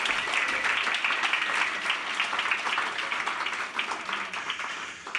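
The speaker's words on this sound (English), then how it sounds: "They all deserve a round of applause," An audience at a literary reading event gives a sustained round of applause for the audio engineer and interns, steady clapping that fades slightly toward the end.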